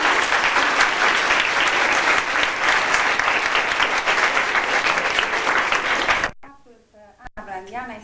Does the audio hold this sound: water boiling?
no